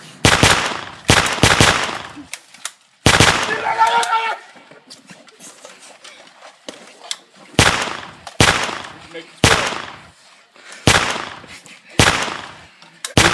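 Video game gunfire rings out in sharp, loud bursts of shots spaced across the stretch, some in quick clusters, with gaps between and a voice talking in places.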